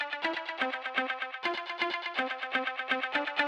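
Plucked guitar sample run through effects for a melodic techno remix, a bright repeating staccato pattern of short notes with echo and chorus shimmer, steady and upfront, alone without any voices.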